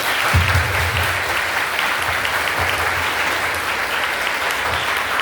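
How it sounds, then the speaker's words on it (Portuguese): A church congregation at a thanksgiving service claps together, loud, continuous applause filling the room for several seconds with a few low thumps beneath, no voices rising above it. "queria agradecer em forma, não uma salva de palmas para Jesus Cristo"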